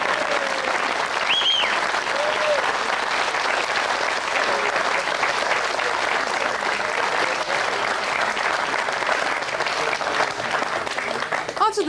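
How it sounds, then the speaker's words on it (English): Studio audience at a late-night live television show breaks into sustained applause, dense and steady for about twelve seconds with a few whoops rising above the clapping. "but a nice round of applause."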